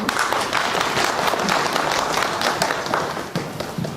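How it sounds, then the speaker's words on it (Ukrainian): Loud, continuous applause from a crowd at a Party of Regions district gathering, many hands clapping at once with no pause across the whole stretch. "Прошу до слова, зустрічайте оплески."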